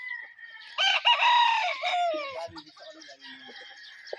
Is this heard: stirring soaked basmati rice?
no